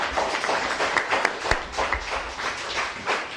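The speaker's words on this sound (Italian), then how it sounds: "E ovviamente anche Azzurra un altro applauso" A further round of audience applause at an Italian community gathering, uneven claps from a modest crowd that run steadily for a few seconds, with a couple of sharper nearby claps standing out.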